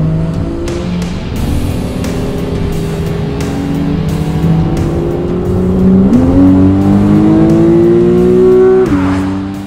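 Porsche 911 driven fast on twisty mountain roads, its engine loud and close, rising in pitch through the gears and building to a hard, high rev before easing off, with no talk.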